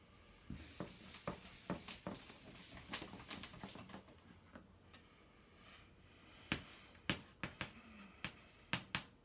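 An eraser rubbed over a writing surface gives short, scratchy strokes in quick bursts, then a few sharper, separated swipes near the end. It sounds close and fairly quiet, with no talking.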